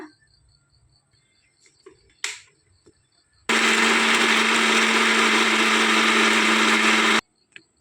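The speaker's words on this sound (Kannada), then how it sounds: "ಮಿಕ್ಸಿ ಜಾರಿಗೆ ಹಾಕೊಳ್ಳುವ ಪೇಸ್ಟ್ ಮಾಡ್ಕೊಂಡು ಬರುವ" After a few quiet clinks, a mixer grinder whirs loudly and steadily for about four seconds grinding green masala paste with a little water, then abruptly stops.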